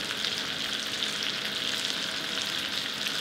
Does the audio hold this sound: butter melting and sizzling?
yes